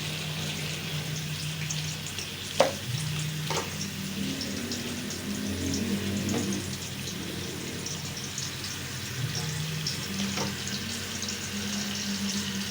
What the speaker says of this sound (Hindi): तेल गर्म हो चुका है, इसमें डालेंगे प्याज।